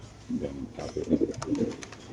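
A racing pigeon from a red checker pair coos softly nearby in a short, low, burbling phrase, with faint background chatter.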